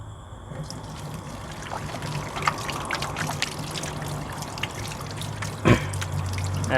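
Tap water runs steadily during handwashing, a continuous close trickle and splash with a brief louder splash near the end and a low hum underneath.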